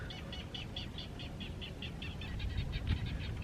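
Birdsong drifts across a quiet boat anchorage in rural Georgia at sunset, a steady run of repeated chirps at an even pace, moderately distant over a low rumble of background noise.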